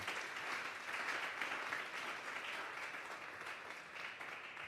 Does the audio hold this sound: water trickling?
no